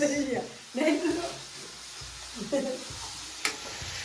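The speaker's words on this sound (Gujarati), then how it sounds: "નાખો ટમેટા મરચાં ને લસણ." Tomatoes, green chillies and fresh garlic tipped into a sizzling pan of pav bhaji base with onions, giving a steady frying hiss with stirring scrapes, while people talk over it throughout.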